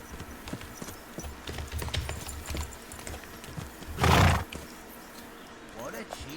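Horse hooves clip-clop in Kingdom Come: Deliverance II, a quiet run of rhythmic hoof steps in the game, followed by a brief loud burst of noise, with someone talking over it.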